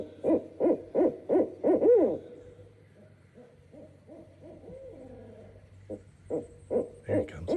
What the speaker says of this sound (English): let's give it a hoot and see if he comes over here